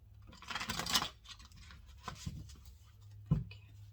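A few brisk, papery shuffling bursts of tarot cards sound close and fairly quiet, separated by short pauses.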